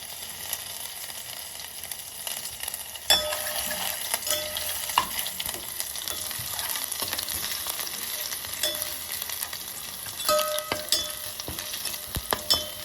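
Garlic, ginger and chilli fry in hot oil with a steady close sizzle, and a louder hiss bursts out partway through as the pan is stirred.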